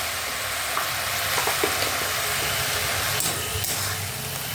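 Jute leaf curry stirred in a pan, a steady sizzling hiss with a few soft scraping knocks of the spoon, continuous and close with no voices.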